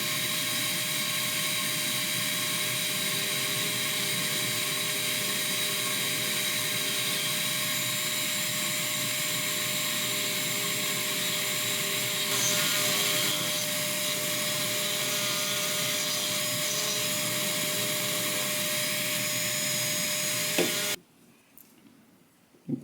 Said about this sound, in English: I'm just going to try and grind away enough of this where I'll be able to pull the bolt out